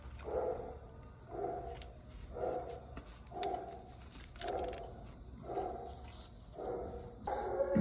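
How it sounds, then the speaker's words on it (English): A dog barks excitedly somewhere behind, in a steady series of about eight rhythmic bursts, moderately loud indoors with low background hum. "the dog behind me is going crazy"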